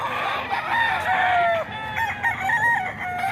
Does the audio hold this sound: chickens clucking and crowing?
yes